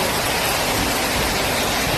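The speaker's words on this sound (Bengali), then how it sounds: "এত বৃষ্টি হচ্ছে দেখো, এখানে সেই বৃষ্টি হচ্ছে" Heavy rain pours down in a dense, even roar that stays steady and loud for the whole stretch, with no voices over it.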